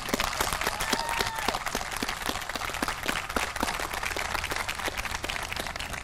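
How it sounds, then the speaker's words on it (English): An audience at a Navy retirement and change-of-command ceremony claps steadily, dense applause filling the room at an even, sustained level without a break. "How about a round of applause?"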